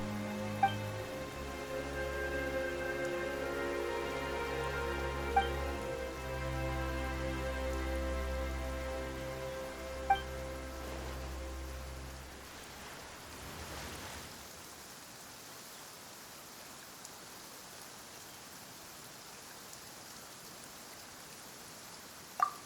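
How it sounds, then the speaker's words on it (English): Rain in the video game Genshin Impact falls as a soft, even hiss, at first under a sustained musical drone and then alone and quieter, with a few faint isolated ticks. "Why is it raining all of a sudden?"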